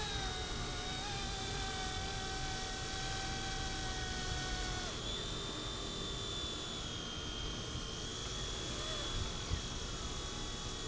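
A small Rage RC Hero Copter remote-control helicopter whines steadily overhead, its high rotor and motor pitch shifting as it maneuvers, continuous and fairly close.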